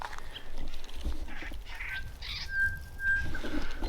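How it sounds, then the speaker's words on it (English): Birds call in open outback country, with thin whistled notes and a long, steady tone over rustling ground noise, fairly distant and without talk. "Bunch of birds."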